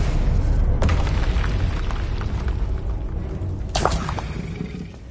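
Confringo and Bombarda spell blasts in the Hogwarts Legacy video game, loud booming explosions with a sustained rumble and a second sharp burst near the end.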